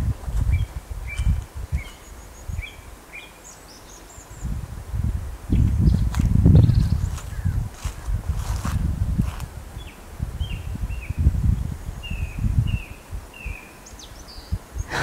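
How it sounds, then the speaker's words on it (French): Many different birds chirp and call outdoors, scattered thin calls sounding at a moderate distance over rustling and low thumping footsteps nearby, with no talking. "Il y a tout plein d'oiseaux différents"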